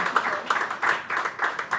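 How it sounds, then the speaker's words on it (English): Audience applause for film director Rakeysh Omprakash Mehra at a book launch event, a steady patter of clapping lasting the whole moment, moderately loud and fairly close. "A round of applause for Rakesh ji."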